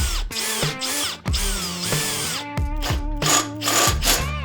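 A power drill drives screws into a brace on a RailFX Oasis cable railing system, with several short bursts of whirring motor that rise and fall in pitch, close and loud.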